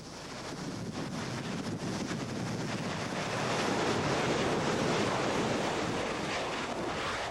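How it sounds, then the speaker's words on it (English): Continuous heavy surf roars and crashes against a growing lava shoreline at an active volcano, a dense rushing wash of water with some wind buffeting, building slightly midway. "Heavy surf pounding against the growing shoreline"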